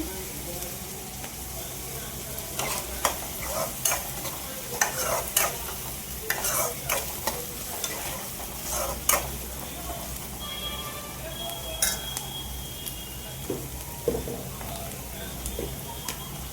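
Curry leaves sizzling in hot oil as they are stirred in a pan, a crackling, rain-like fry with bursts of scraping spoon strokes, close and continuous without speech.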